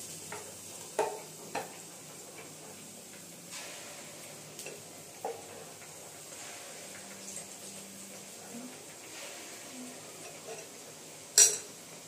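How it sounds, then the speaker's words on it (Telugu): Boondi droplets frying in hot oil for motichoor laddu, a quiet steady sizzle with occasional sharp clinks and scrapes of a ladle against the pan. "ఇట్లా ఫ్రై చేసుకోవాలి"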